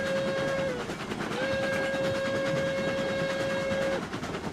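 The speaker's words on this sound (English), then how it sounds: "see that the whistle should have a crazy echo in there though" Steam locomotive whistle in the train game RailRoads Online: a loud, steady tonal blast, briefly broken then resumed for a long sustained note over rumbling rail noise and clatter, with no speech.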